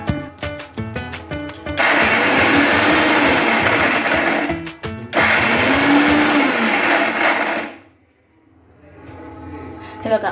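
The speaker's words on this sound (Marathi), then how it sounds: "मिक्सरमध्ये पटकन आपलं एक रफ माराय एक मारायचा रफ पटकन आपलं सूड बारीक मस्त होऊन जातो" A kitchen mixer grinder chops carrots for carrot halwa in quick pulses: a few short bursts, then two long loud whirring runs broken by a brief pause, before the motor winds down into quiet near the end.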